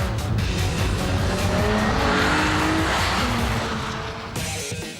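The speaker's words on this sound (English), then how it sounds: "Driving the Z is pure fun. It's really well balanced and great to drift." A Nissan Z car drives and drifts on a racetrack, engine revving hard with tires squealing in a long continuous skid, loud and close before easing slightly toward the end.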